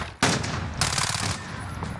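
Close gunshots in Call of Duty: Modern Warfare, a sharp opening blast followed by a second longer burst, loud and alone with no talking.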